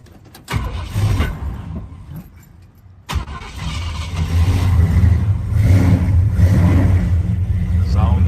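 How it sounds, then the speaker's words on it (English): A 1976 Ford F-150 pickup with a custom steering wheel cranks over and fires up, settling into a loud, steady idle rumble close by with a brief pause before catching. "Start up our 76 F-150 here"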